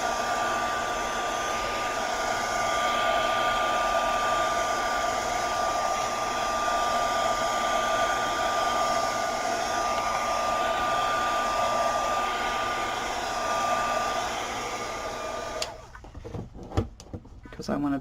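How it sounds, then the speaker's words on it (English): A heat gun drying a freshly stamped craft journal page gives a steady, loud whirring blow with a constant tone, then cuts off near the end, leaving a few clatters and handling noises. "Okay, heat gun again. Just going to give this a little hit and put it aside and let it dry for us."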